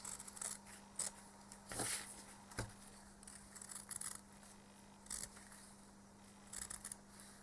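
Scissors snip through quilting fabric, trimming a small margin around a shape, in a few sharp isolated cuts spaced across a quiet room with steady low hum.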